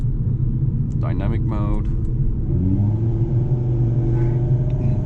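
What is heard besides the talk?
Audi R8 V10 Plus engine heard through open windows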